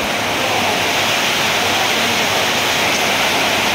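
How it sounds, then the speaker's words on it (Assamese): Heavy rain pours down steadily on a winter festival day, a dense, loud, unbroken hiss with no breaks and no voices. "চাওক কেনেকুৱা বৰষুণ দিছে"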